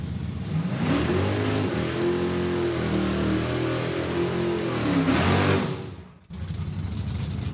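A drag racing car at Saskatchewan International Raceway accelerates hard down the strip, a loud, sustained engine roar rising through gears, then cutting off abruptly near the end before background noise resumes.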